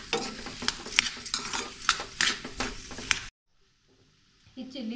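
A spoon stirs and scrapes through a potato and semolina momo filling in a pan, with rhythmic mixing strokes and light sizzle for about three seconds, then near silence before faint kitchen noise returns.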